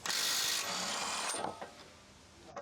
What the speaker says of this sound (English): With a large electric impact wrench, remove the rear shock absorber lower retaining bolt.